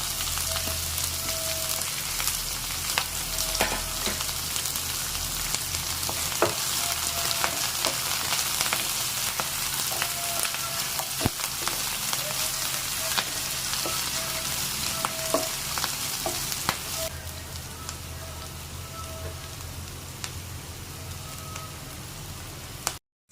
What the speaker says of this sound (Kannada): ಈಗ ಇದಕ್ಕೆ ಈರುಳ್ಳಿ ಹಾಕೊಂಡ್ತಾ ಇದೀನಿ ಅದರ ಜೊತೆಗೆನೇ ಕರಿಬೇವಿನ ಸೊಪ್ಪು ಕೂಡ ಹಾಕೋತಾ ಇದ್ದೀನಿ